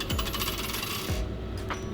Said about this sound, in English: This is how we use coins.